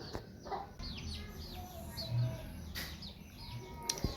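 A chicken clucks and chirps in short, soft bursts at a morning household scene, faint and somewhat distant amid light background noise.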